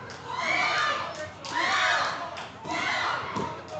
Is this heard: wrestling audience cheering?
yes